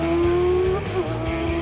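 A racing motorcycle accelerates hard at full throttle toward the finish line in a race battle for first place, its engine note loud and close with a steady high whine that shifts pitch as it pulls away.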